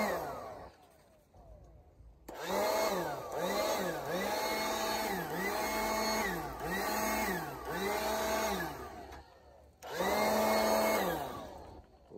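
Cordless battery-powered leaf blower running outdoors, its motor whine rising and falling in repeated pulses as the speed changes, loud and close, briefly stopping before starting up again.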